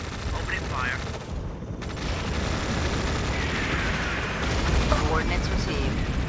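Gunfire as units open fire in the Tom Clancy's EndWar video game, heard as a steady dense roar of battle with rumbling bursts. Radio-style voices talk over it throughout.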